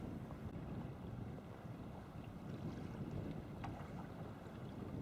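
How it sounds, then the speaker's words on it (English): Wind rushes steadily across a microphone during sea kayaking off Skye at Elgol, a loud low buffeting roar with faint water lapping beneath it and nobody speaking. "The wind's decided to change direction, blow from the north, so basically it's just blowing us back now"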